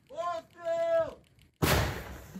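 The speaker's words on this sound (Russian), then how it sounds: "Выстрел! Выстрел!" A 2S1 Gvozdika self-propelled howitzer fires a single shot during Ukrainian artillery combat work, a sudden loud blast with a trailing rumble that follows a crew member shouting the firing command.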